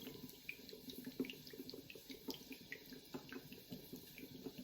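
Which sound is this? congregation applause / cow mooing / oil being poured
oil being poured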